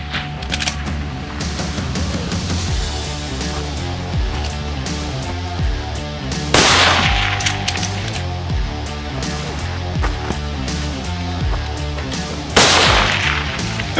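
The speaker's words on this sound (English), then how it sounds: "you're gonna go to the 900 yard target for your final shot for a total of 7 rounds in 90 seconds" Rifle shots fired at long-range steel targets out to 900 yards during a timed seven-round stage: two sharp, loud reports roughly six seconds apart stand out over a steady tonal background.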